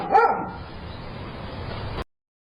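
A dog barks loudly at the start, then noisy rumbling follows for about two seconds before an abrupt cutoff, with no talk.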